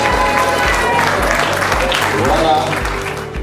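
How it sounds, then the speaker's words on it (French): Applause from the crowd at a festival ceremony in Owando, a loud, steady wash of clapping that fills the whole stretch, with voices mixed in. "Sous vos applaudissements"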